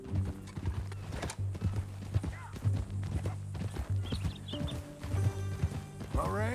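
Horse hooves clip-clop steadily in Red Dead Redemption 2 on a ranch trail, loud and close, with an occasional whinny and voices over a music bed.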